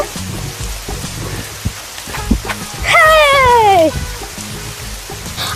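Steady rain hisses throughout, with scattered knocks and a brief descending wailing tone partway through.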